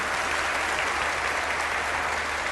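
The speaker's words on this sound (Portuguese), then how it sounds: "um aplauso especial para Peru" Audience at an evangelical church event applauds, a thick, sustained roar of many hands clapping at once, loud and unbroken from start to finish.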